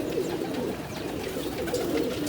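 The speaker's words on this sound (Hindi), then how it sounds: "ये देखें एक और कबूतर नीचे उतर आया, कुछ ऊपर अभी तक फिर रहे हैं।" Pigeons cooing and fluttering inside a netted rooftop cage as some land and others still circle overhead, a steady soft murmur of calls and wingbeats close by.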